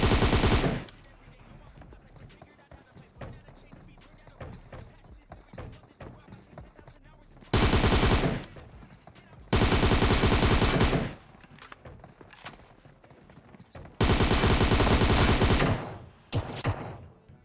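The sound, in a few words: gunfire from PUBG video game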